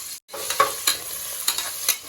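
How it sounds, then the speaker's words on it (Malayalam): Onions fry in ghee in a pan while a spoon stirs them, a close sizzle broken by several distinct scraping strokes at an uneven rhythm, with no voice. "ഉള്ളി വറുത്തെടുക്കുകയാണ്."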